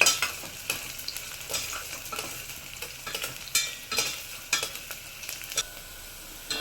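Onions frying lightly in a pan on a stove over medium flame, a soft continuous sizzle broken by irregular spatula stirs and scrapes, close up with no talking.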